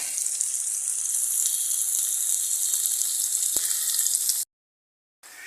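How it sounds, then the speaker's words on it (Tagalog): Garlic, onion, ginger and tomato sizzle loudly and steadily in a hot pan with fish sauce, then the sound cuts out abruptly before briefly returning. "Ayan na po ang ating ginigisa. Ayan po ang ating bawang, sibuyas, luya at kamatis."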